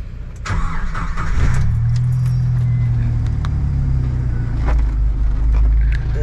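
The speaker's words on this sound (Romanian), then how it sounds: "Hai că mașina merge." A Jeep Wrangler's engine starts and revs up, then holds a steady rumbling idle as the vehicle pulls away, loud and close with no talking.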